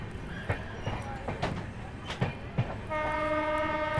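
The Amritsar Mumbai Express runs with rhythmic wheel clacks over rail joints and a rumbling carriage, and a sustained horn-like tone enters near the end.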